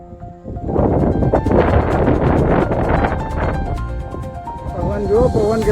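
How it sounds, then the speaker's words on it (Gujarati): Strong wind gusting against the microphone on a cloud-covered hilltop, a loud broadband rush that swells and eases for several seconds, with voices faintly underneath. "પવન જો પવન કેટલો જબરજસ્ત પવન આવે."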